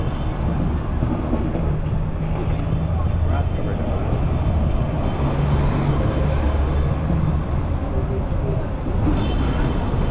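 A Toronto streetcar rolls along Queen Street downtown in December, a loud continuous low rumble and steady rail hum filling the street, with a passing busy-city wash and voices mixed in.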